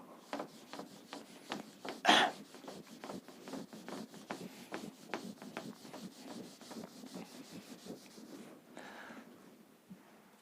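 Writing is rubbed off a classroom board during a chemistry lecture, heard as repeated short scrubbing strokes in a steady rhythm with a louder swipe early on, close and moderately loud, with no talking.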